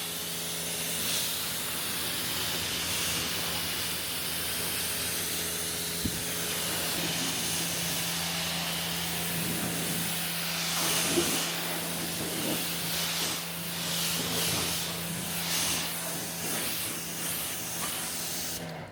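Pressure washer water spraying snow foam off a car, a steady close hissing rush of water that continues throughout with slight shifts as the spray moves over the bodywork.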